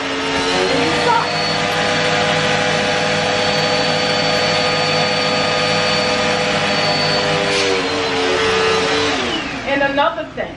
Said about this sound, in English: Turn your vacuum on, and you start.